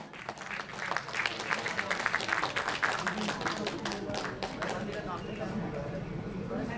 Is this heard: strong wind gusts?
no